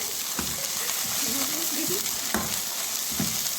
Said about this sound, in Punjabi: ਥੋੜਾ ਜਿਹਾ ਭੁੰਨਣਾ ਹੈ ਨਾ ਕਿਉਂਕਿ ਜਿਹੜਾ ਲਸਣ ਅਦਰਕ ਦਾ ਪੇਸਟ ਹੈ